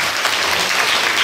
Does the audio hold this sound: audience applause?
yes